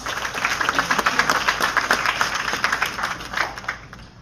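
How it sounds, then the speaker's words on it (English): An audience at an outstanding-teacher award ceremony applauds Belizean educators with a steady wash of many hands clapping together, fairly loud and sustained for several seconds with no speech over it. "Please, let's give them a round of applause."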